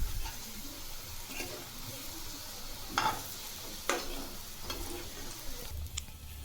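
Colocasia (alu) leaf rolls roast in a pan, giving a low, steady sizzle with occasional scraping and clicking as they are turned, close and fairly quiet.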